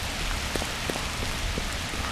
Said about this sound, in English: you can turn off the rain and all that thunder in the options.